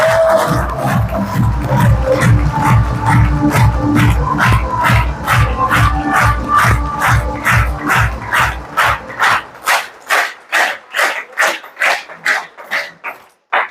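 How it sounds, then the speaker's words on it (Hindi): An audience at a business coaching seminar claps loudly in unison with a steady beat that quickens. Crowd noise fills the background at first, then the sharp claps carry on alone and taper off. "एक बार जम के झमाझम वाली तालियां।"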